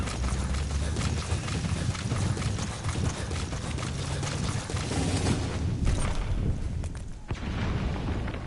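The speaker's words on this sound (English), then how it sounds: "The horse." Horse hooves clip-clopping in the video game Metal Gear Solid 5: The Phantom Pain, a steady dense rhythm of hoofbeats heard alone over a loud, busy game soundscape with a few thuds near the end.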